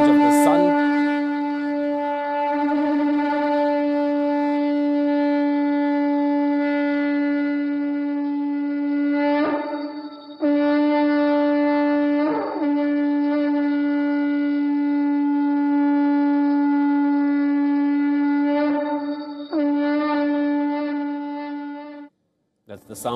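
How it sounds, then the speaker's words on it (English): A conch blown at the Ram Temple flag-hoisting ceremony in Ayodhya, a long steady droning tone held for many seconds with brief breaths and restarts, loud and sustained before cutting off. "That's the sound of the conch which is being blown at this point"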